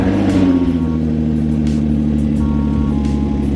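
A van engine idles loudly with an exhaust problem, producing a rough, throbbing low rumble with a steady pulsing drone and rattly tone, close by and without speech.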